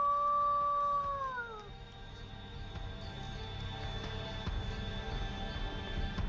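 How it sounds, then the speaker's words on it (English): A stock-sounding wolf howl rises clear and loud, holds a long sustained note, then bends downward in pitch and breaks off, leaving a low background hum. "That was like stock audio wolf howling"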